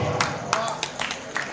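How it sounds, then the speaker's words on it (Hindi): An audience applauds at a live stage event, with sparse, separate claps and brief bursts over a murmuring crowd, close and lively. "तालियां बननी चाहिए"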